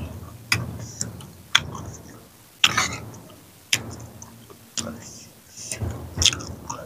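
Close-up bites and chewing of spicy squid tentacle salad with lotus stems, a series of sharp crunchy snaps spaced about a second apart between quieter wet mouth sounds.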